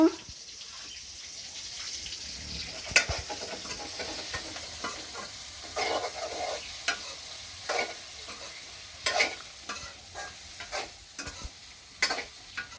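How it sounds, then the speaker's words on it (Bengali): White meat frying in a pan with a spatula clattering and scraping in repeated irregular strokes over a low continuous sizzle, close by, with occasional faint voices in the background. "এই যে সাদা মাংস ভাজা হয়ে গেছে"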